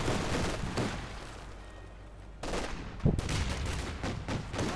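Sustained MG-42 and MG-34 machine gun fire in the video game Company of Heroes 2, dense rattling bursts with a sharp loud shot near the middle, continuing steadily throughout.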